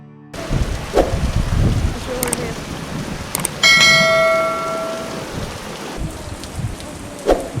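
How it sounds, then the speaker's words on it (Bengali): Monsoon rain falls steadily at a Sundarban eco resort, a continuous patter with a few sharp knocks and a ringing metallic tone, heard close with no talking over it. "যেহেতু এখন বর্ষাকাল বৃষ্টি হওয়াটাই স্বাভাবিক"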